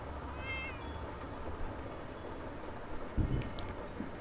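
A cat in the video game Fallout 76 gives a short, fairly faint meow early on over a low rain-like ambient background, followed by a soft thump.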